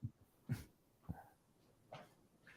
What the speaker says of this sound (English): My dog's trying to go outside.